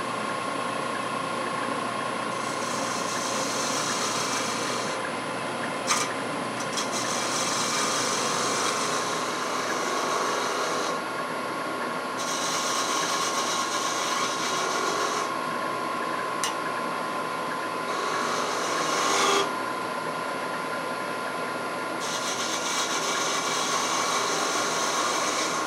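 A wood lathe turns a cherry burl lidded box while a fine detail gouge cuts with a light touch, giving a steady, loud whirring hum with a continuous broadband hiss and brief scraping surges throughout.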